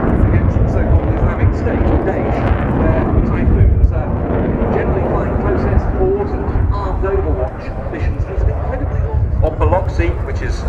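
A Royal Air Force Typhoon FGR.4 jet flies a display at RIAT 2019, producing a loud, continuous, rumbling roar throughout, with a voice speaking over it.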